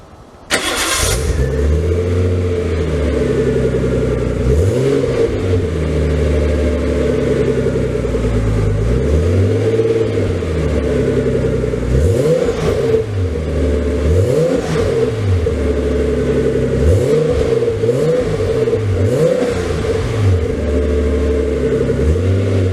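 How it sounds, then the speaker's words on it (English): A Nissan 240sx with a turbocharged RB25DET engine and a new HKS HiPower exhaust starts with a burst, settles into a deep idle and then revs repeatedly in rising and falling sweeps, close and loud throughout. "let's go ahead and hear what this new exhaust sounds like"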